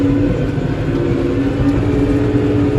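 A farm tractor pulling a disc harrow through tall Sudan grass cover crop on frosty ground, its engine a steady, loud, low rumble that runs throughout from inside the cab, with no talking.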